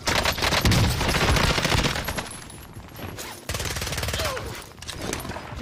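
Rapid automatic gunfire bursts in the Warzone video game, dense and loud through the first half, then a brief drop and renewed bursts of shooting, with no talk.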